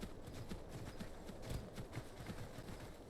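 Horse hooves clip-clop in a fantasy video game, a quiet, steady run of light rhythmic hoofbeats at a brisk pace with no talk over them.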